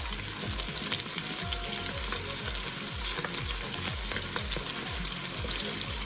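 Garlic frying in a pan for a beef and ham hock peanut curry, a close continuous sizzle with rhythmic scraping stirs repeating throughout.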